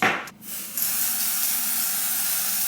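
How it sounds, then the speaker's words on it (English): Kiss lace tint in medium brown and red sprayed onto a 30-inch 360 lace wig, a steady close hiss that starts after a brief pause and continues without letup. "I'm going to go ahead and spray a little lace tint on this wig so it can blend in with my skin tone a little better"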